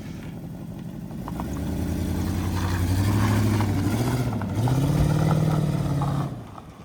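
A Lexus engine revs with a massive exhaust leak at the header, a loud, close, rough and raspy roar that climbs, holds, surges again and then drops off sharply, with no talking over it.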